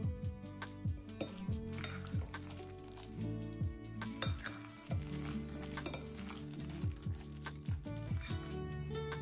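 Zucchini fritters sizzle steadily in a teaspoon of ghee in a hot pan, with dense continuous frying crackle and occasional clinks of utensils against the pan.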